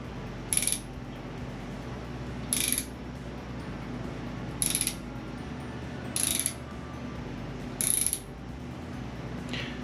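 A ratchet wrench turns the engine of a Honda Goldwing clockwise in five short bursts of crisp, rapid clicking, close up, separated by quiet pauses over a low background hum.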